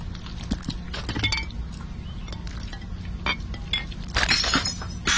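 Clinking and shattering of plates breaking during dish washing in a video game, a run of sharp glassy crashes and clatters with a bigger smash near the end, no talk.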